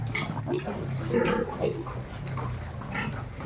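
Piglets on a backyard farm grunting and squealing continuously at close range, several animals overlapping in a busy, noisy pen.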